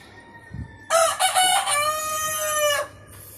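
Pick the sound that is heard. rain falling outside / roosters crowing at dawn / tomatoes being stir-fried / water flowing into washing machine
roosters crowing at dawn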